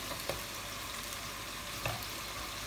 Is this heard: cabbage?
yes